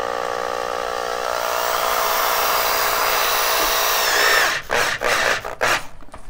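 A power drill drives a self-drilling screw to fix a KU-band antenna base under a roof, a loud steady whine for about four seconds before it stops, followed by a few brief handling knocks.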